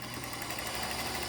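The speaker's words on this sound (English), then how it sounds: "I'm using my leader so that my sewing machine doesn't eat it" Sewing machine running a quarter-inch seam on half-square triangle pieces, a steady, close, continuous whirring motor and needle hum throughout, with no voices.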